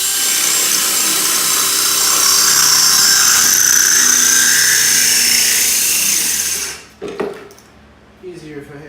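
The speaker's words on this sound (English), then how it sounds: "And we're gonna start drilling." Power drill with a hole-cutting bit grinding a circle into wet ceramic tile, a loud steady whine for about seven seconds, then stopping, followed by brief clatter and faint movement.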